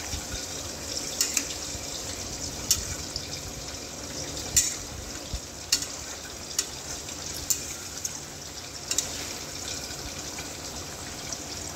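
Fish curry cooks in a pan with a soft, watery bubbling hiss, broken by sporadic small crackles and pops at a moderate distance.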